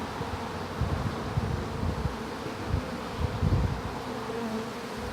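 A swarm of honey bees buzzes continuously, a dense droning hum with louder passes as individual bees fly close.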